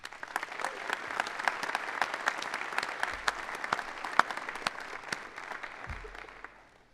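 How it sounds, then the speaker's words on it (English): An ROTC commissioning ceremony crowd applauds with distinct, crisp individual claps over a softer steady bed, heard from a moderate distance and fading at the close. "Let's give our family, our loved ones, our friends a round of applause."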